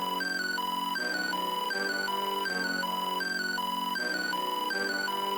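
Bright, high-energy synth melody from an FL Studio beat, looping steadily at a constant loud level, with a ringing bell-like lead over sustained pads and no voices.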